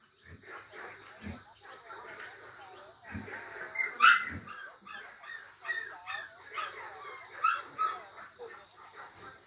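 A hunting dog barks and whimpers in short, irregular bursts close by, mixed with people talking throughout.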